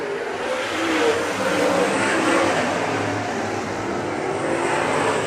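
Late model race cars run a feature event at Merritt, their engines joining in a steady, loud roar with no clear gaps. No one speaks over the sound.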